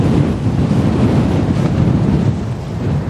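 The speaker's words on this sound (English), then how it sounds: "It's windy." Wind buffets a microphone, producing a loud, rumbling low-frequency roar that gusts and fluctuates continuously, with no other sounds standing out.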